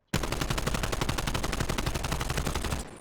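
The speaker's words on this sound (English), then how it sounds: "So let me just shoot at this wall and not do anything." Sustained automatic gunfire from Call of Duty: Cold War sprayed at a wall, a rapid, steady stream of loud shots lasting nearly three seconds before cutting off.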